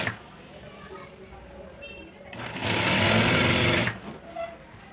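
A sewing machine stitches a seam on palazzo pants in a short loud run of rapid whirring lasting just over a second, preceded and followed by quieter handling sounds.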